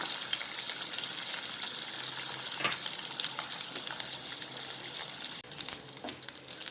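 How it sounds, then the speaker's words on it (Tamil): Dried anchovy fish fry in hot sesame oil with a dense, continuous close-up sizzle. Occasional stirring scrapes grow busier toward the end. "கருவாட்டை போட்டு பொரித்து எடுத்துடலாம்"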